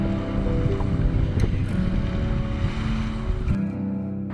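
A tour boat's engine drones steadily on Lake Titicaca, heard from the upper deck on the way to Isla del Sol, with a constant low rumble and rushing wind and water noise throughout.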